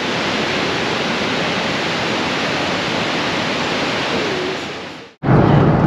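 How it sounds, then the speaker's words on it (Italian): Grand Falls on the St. John River, along the Canada–United States border, roars as a steady, loud wash of falling water. It drops out abruptly for a split second, then returns just as dense. "le cascate di Grand Falls"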